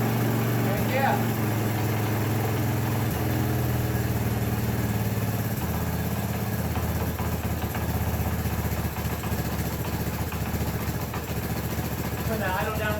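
Honda ATC 200 Big Red three-wheeler engine idling with a steady, mid-pitched putter throughout, close by, while people talk over it.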